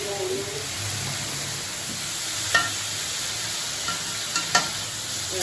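Bottle gourd curry sizzles steadily in a frying pan while it is stirred, with a few soft scrapes and clinks of the spoon against the pan over a constant frying hiss.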